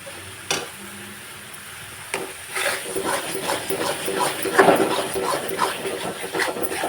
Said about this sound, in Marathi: चिटकुनी म्हणून हलवत राहायचं